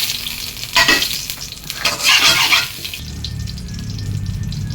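Garlic sautéing in a pan for a Filipino pinakbet, with stirring scrapes and a steady sizzle that swells in two bursts, then settles into a low bubbling simmer, close and fairly loud with no talking.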